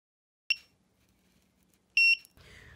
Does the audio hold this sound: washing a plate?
no